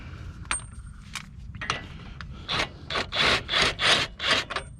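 A wrench tightens a bolt on the front axle of a Toyota Corolla or Camry, giving a few scattered clicks and scrapes followed by a steady series of rhythmic ratcheting strokes close by.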